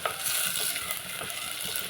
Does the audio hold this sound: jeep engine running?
no